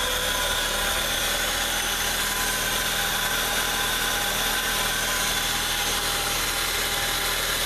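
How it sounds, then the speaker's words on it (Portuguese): A Fiat Palio Fire 1.3 8v engine idling smoothly and quietly after a valve adjustment in a mechanic's workshop, a steady even hum that continues without change. "O motor extremamente quieto, tá?"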